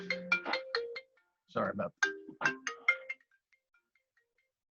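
A mobile phone ringtone plays a bright melodic chime pattern in two bursts, loud and close in a quiet room, fading out at the end.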